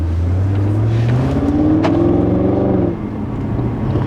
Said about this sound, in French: appuie pas trop fort sur l'accélérateur. ouais, ça peut partir vite. C'est un véhicule très puissant.